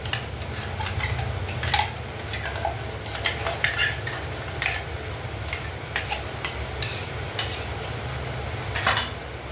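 Aviyal, a coconut vegetable curry, is stirred and mixed in a metal pot, with repeated sharp clanks and scraping taps of a spoon against the pot at an irregular rhythm, close and clear, with no talking.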